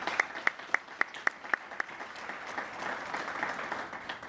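An audience at a business event claps for partner planning departments, a brief burst of applause led by a few sharp nearby claps before settling into a softer, diffuse patter.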